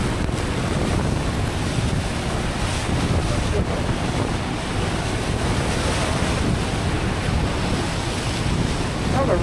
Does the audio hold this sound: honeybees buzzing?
no